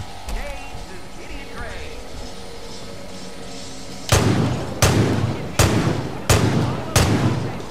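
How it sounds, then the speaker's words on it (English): Gunfire in Far Cry 5 aimed at generators, five loud, evenly spaced shots in the second half, each ringing out briefly, after a stretch of quieter game ambience and talking. "Oh, you can't just shoot the generators."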